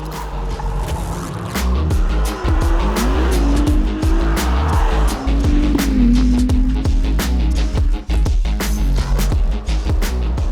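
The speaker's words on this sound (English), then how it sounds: "let's put those tyres to the test around this short half-a-mile circuit." Ferrari 296 GTB hybrid supercar driven hard around a short half-mile circuit, its engine loud and close with rising and falling revs and bursts of tyre squeal, continuous throughout with no talk.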